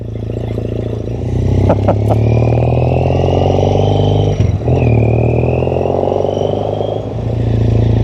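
Triumph T100 motorcycle engine idling close by, a steady, throbbing twin-cylinder rumble with a few sharp clicks and a brief dip, running alone without talk.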